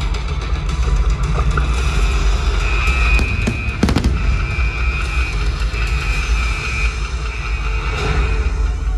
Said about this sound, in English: We hope you enjoyed the Ultimate Fireworks Spectacular